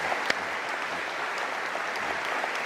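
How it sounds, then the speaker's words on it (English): A comedy audience gives a brief, even wash of applause at moderate loudness with no breaks. "That deserves a round of applause."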